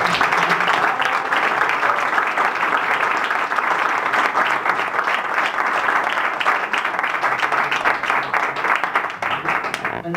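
Thick, steady applause from a large evening audience in Graz greets a guest introduced on stage, a dense continuous roar of many hands that holds at full strength for about ten seconds.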